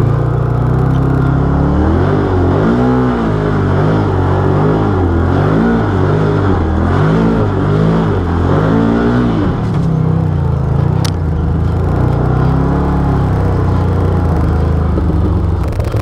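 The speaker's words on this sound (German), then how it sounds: "Steffi fährt jetzt ein bisschen mit meinem Automobil." A Can-Am Maverick side-by-side drives along with a loud, close engine drone that rises and falls through repeated revs early on, then settles into a steadier rumble.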